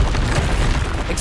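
A Confringo blasting spell explodes in the video game Hogwarts Legacy, giving a dense, boomy low rumble that fills the whole short moment at steady loudness, with no voices.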